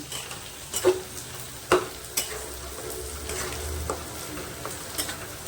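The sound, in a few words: sesame-chilli paste being stirred and fried in a pan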